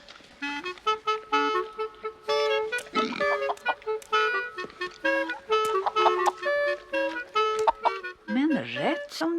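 Piglet grunting in a farmyard alongside a rooster and hens eating berries, with repeated short grunts and clucks mixed among several animal calls and layered voices talking throughout, fairly close and busy, ending with a rising squeal.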